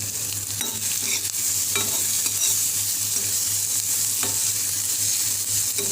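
Chopped onions frying lightly in a pan as the base for a cheese-free white sauce macaroni, giving a steady soft sizzle with occasional stirring scrapes, close and continuous with no talking.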